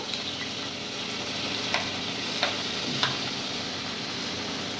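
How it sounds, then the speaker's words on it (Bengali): Grated onion and garlic paste frying in hot oil for a Bengali katla fish kalia, a steady broadband sizzle throughout with a few brief sharper spits, close and moderately loud, no voices. "এবার আমি এই তেলের মধ্যে গ্রেট করে রাখা পেঁয়াজটা"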